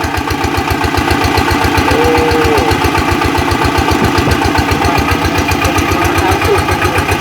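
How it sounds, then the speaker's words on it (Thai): A small water pump engine runs steadily outdoors on a farm, its idle chugging in a fast, even pulse that stays loud and constant throughout with no talking. "ติดตั้งเครื่องสูบน้ำยังไงล่ะครับ"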